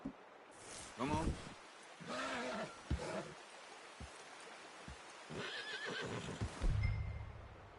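A horse in Red Dead Redemption whinnies loudly several times, its neighs broken by faint hoof clops and short gaps, with game dialogue drifting in between.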